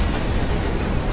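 Steady, dense rumble of a train rolling along tracks in Assassin's Creed Syndicate, a continuous loud wash of wheel and carriage noise with no distinct breaks.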